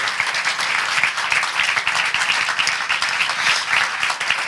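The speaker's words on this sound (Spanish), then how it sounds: "Y darle, por supuesto, otra vez otro aplauso a Noemí." Audience applause after a science talk on the James Webb telescope, a dense steady round of many hands clapping close by, with no speech over it.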